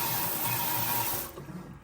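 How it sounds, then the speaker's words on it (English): Water sprays hard from a newly installed kitchen sink faucet head in a steady, loud hiss that runs for over a second and then cuts off, leaving a faint residual trickle. "we're gonna turn on the water just like this"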